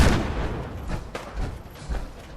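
Rocket launcher explosions in the video game Fallout 4 VR, several muffled blasts and gunfire-like bursts at moderate level, spaced irregularly over a short stretch.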